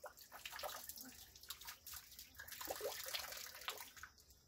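Water sprays and splashes steadily from the nozzle of a pump driven by a current-powered water wheel outdoors, a continuous hissing spatter with bright bursts, heard alone at moderate level.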